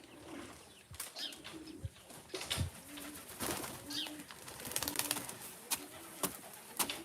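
Young pigeons returning to a loft, cooing softly with occasional wing flaps and sharp clattering knocks, moderately close, in an otherwise quiet outdoor setting without speech.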